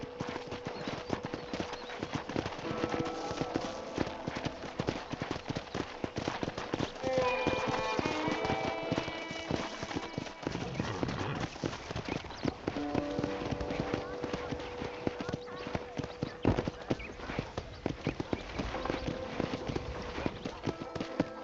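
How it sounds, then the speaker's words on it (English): In the video game Red Dead Redemption, steady rhythmic clip-clop of horse hooves trotting throughout, with voices talking over the top and a brief whinny partway through. "let's see if you can still ride a horse"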